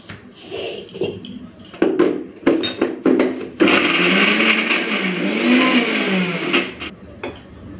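A mixer grinder crushes garlic and green plantain peel, first in short choppy pulses, then in a sustained loud whirring run of about three seconds before it winds down.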